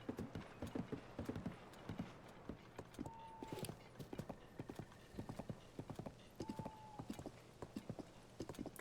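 A horse trotting in Zelda: Tears of the Kingdom, its hooves clip-clopping in a fast steady rhythm, with a couple of short whistling mechanical tones over the hoofbeats.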